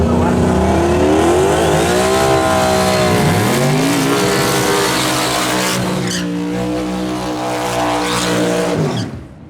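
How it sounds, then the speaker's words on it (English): A pair of drag cars, one a Turbo Mustang, do burnouts side by side with loud screeching tires and roaring, revving engines throughout before the noise cuts out abruptly at the end. "Nice big burnout for both guys."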